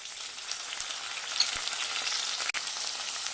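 Tomatoes sautéing with cinnamon, cloves and cardamom in a pan for a spicy Tamil egg masala fry, giving a steady, soft sizzling hiss with faint stirring scrapes and no voices.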